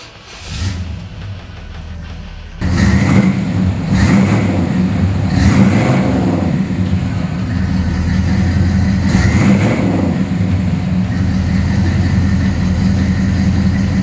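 A 1969 Pontiac GTO engine cranks and fires up loudly, then settles into a deep rumbling idle broken by several sharp revs before steadying again.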